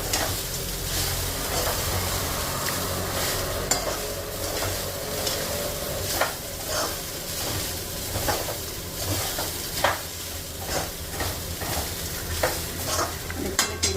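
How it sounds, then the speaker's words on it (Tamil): Beaten rice upma (poha) is stirred in a pan over low heat, giving a steady soft sizzle with a rhythmic run of close scraping spatula strokes and occasional knocks against the pan. "இந்த மாதிரி அப்படியே கலரி கொடுத்துட்டே இருங்க கொஞ்ச நேரம்."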